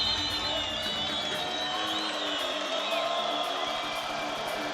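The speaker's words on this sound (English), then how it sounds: "as you can hear the crowd doing all the talking for me" A large arena crowd roars and cheers continuously at the PUBG Mobile Global Championship grand finals, a dense, sustained wash of voices with scattered whoops.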